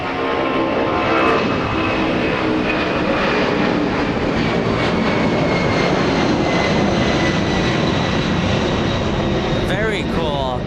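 A 1983 Boeing 767, forty years old and first flown by TWA, roars steadily and loudly at Los Angeles International Airport, a broad continuous engine rush with a faint whine, with people talking over it.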